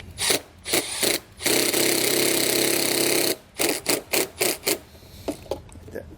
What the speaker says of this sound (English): It's a self-tapper square bit. We're going to drive that into place.